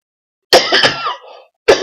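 A person with a lingering cough lets out a loud, close, raspy cough that trails into a throaty rattle, followed by the start of another cough after a brief silence.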